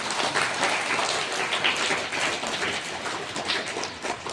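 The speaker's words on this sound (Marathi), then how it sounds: "त्या शिक्षकांसाठी एकदा जोरदार टाळ्या सगळ्यांनी वाजवा" An audience at a primary school prize-giving ceremony applauds for the teachers with dense, steady clapping that stays fairly even throughout and sounds somewhat distant.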